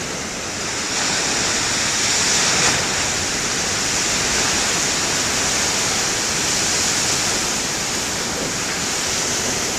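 Large ocean waves in heavy winter surf make a constant, loud, broadband roar with some wind noise. There are no clearly separate crashes and no voices.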